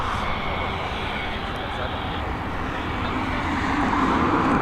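A Boeing 737 arriving from Nantes at Dublin Airport, a steady broadband jet roar that holds level and swells slightly toward the end, heard from a distance.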